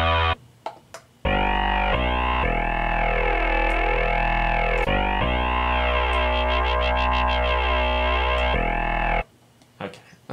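Distorted Reese bass synth played in Reason 6.5 with the Pulverizer's dirt, squash and filter raised, sustained in long detuned notes with a loud, wobbling, phasing buzz, framed by a few short clicks and quiet moments at the start and end.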